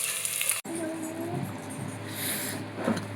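Fish frying in a pan in a home kitchen gives a steady, moderate sizzle with a bright crackling hiss that runs through the whole stretch after a brief dip near the start.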